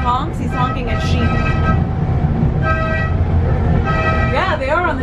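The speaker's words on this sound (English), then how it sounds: "I think when he honks, he's honking at sheep." A mountain train sounds its horn at sheep on the track in Wales, several loud tooting blasts over a constant rumbling ride, with brief rising whistle-like tones near the end.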